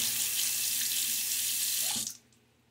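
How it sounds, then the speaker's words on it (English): A safety razor is rinsed under a running sink tap, a steady close splash of water that stops abruptly near the end, leaving near silence. "Open it up a little bit, give it a good rinse."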